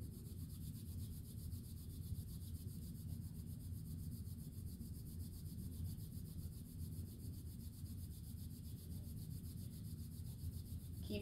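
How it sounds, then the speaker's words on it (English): Two hands rubbed briskly together as fast as possible, a steady, continuous low friction swish that holds unbroken, close and fairly quiet throughout with no talking. "we're going to rub our hands together as quickly as we can for 30 seconds"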